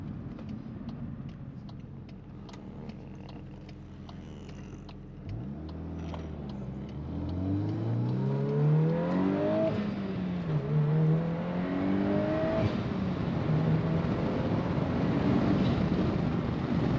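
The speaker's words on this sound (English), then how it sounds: "I'm gonna try to crack the window and see if I get you guys some of that turbo-y noise" An eighth-generation Volkswagen Golf R turbocharged engine revs up hard, its pitch climbing through several gear changes with a whooshing turbo whine, loud and close, heard from inside the car through a cracked window.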